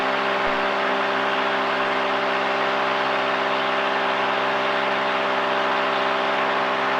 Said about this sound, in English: Takeoff power is set. Engine indications are in the green and we're off.